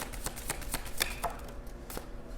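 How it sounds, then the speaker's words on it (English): A deck of cards being shuffled by hand, a run of soft crisp riffling taps with a few sharper snaps, close and fairly quiet with no talking. "Oh yes, I should be shuffling this way."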